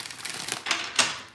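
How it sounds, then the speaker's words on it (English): Tarot cards being shuffled by hand: a quick run of papery riffling and flicking lasting about a second, with a louder burst of card snaps near the end and no voices. "Two more shuffles, two more."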